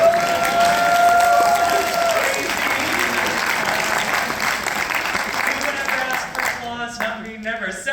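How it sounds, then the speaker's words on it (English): Audience applause at an Anime Expo 2023 academic symposium panel on the music of Evangelion: sustained, fairly close crowd clapping with some cheering, tapering off toward the end as talk resumes. "Oh my god, clapping."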